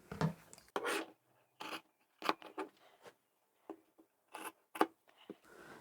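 Fabric for a tote handbag being cut with scissors, a handful of short crisp snips and rasping strokes in a quiet room, close and faint with gaps between cuts.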